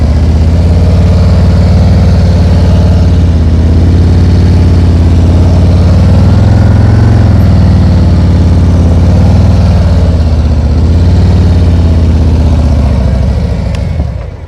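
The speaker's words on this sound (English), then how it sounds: "Listen to my engine. It's the same the whole time." A motorcycle engine holds a steady throttle during slow-speed riding practice, a loud, even low drone close by that barely changes pitch for the whole stretch before tapering off at the very end.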